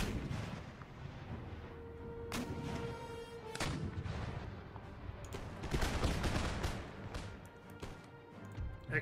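In the video game Empire: Total War, cannon artillery booms repeatedly in an irregular barrage, heavy thuds and rolling rumbles mixing with scattered musket cracks, some blasts near and others distant, with no speech.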